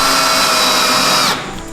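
A power drill drives a screw into a door hinge, whirring loud and close at a steady pitch for over a second before winding down abruptly.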